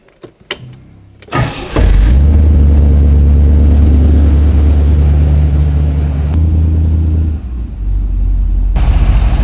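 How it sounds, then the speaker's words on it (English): A car engine with a Smiths tachometer cranks and catches, then settles into a loud, steady idle rumble that dips briefly near the end before picking back up. "Let's crank up the car and see what the RPM meter tells us"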